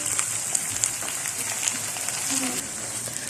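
Mutton fries in desi ghee over a high flame, giving off a steady, moderate crackling sizzle with scattered sharper pops and no talking.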